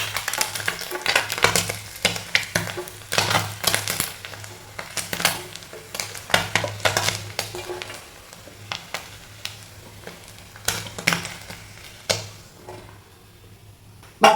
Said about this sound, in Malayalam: ബാക്കി മീനും ഇതുപോലെ ഇട്ടുകൊടുത്ത് വറുത്തെടുക്കാം.